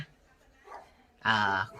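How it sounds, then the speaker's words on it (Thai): A pet dog indoors lets out one short, loud bark close by, preceded by a faint lower yelp amid quiet room tone. "สุนัขบ้านผมเอง ไอ้เจ้าปังขูด เห่าแย่งซีนอยู่นะครับ"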